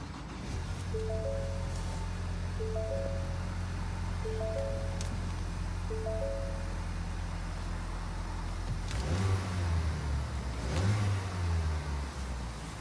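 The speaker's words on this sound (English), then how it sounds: "To start the Explorer, all you have to do, put your foot on the brake and press the dash button to start." A 2016 Ford Explorer Limited running after a push-button start: a steady low engine hum with repeating chime tones early on, then two revs swelling and fading near the end.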